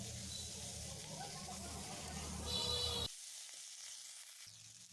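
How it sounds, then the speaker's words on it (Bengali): Ginger-garlic paste fries with potato, tomato and onion in a pan, giving a close, steady sizzle and hiss for about three seconds before cutting off into near silence. "আদা রসুনটা আমি ভালোভাবে আলু টমেটো পেঁয়াজের সাথে কষে নেব"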